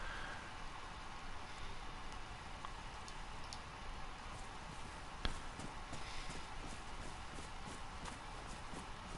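Rain falls steadily at night in the survival game DayZ, a soft, constant patter with faint scattered drops and occasional light taps, heard alone at low volume.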